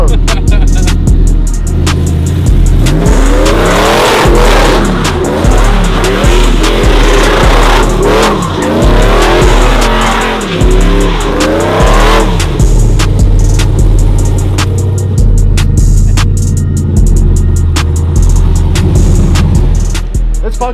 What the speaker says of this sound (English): I didn't have to do too much of a burnout.